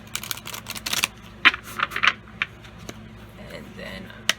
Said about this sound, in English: I just wanted to give a good shuffle here